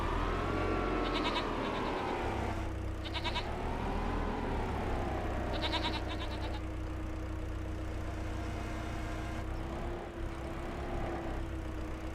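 Farm goats bleat in several wavering cries over a steady low engine idle that hums underneath throughout.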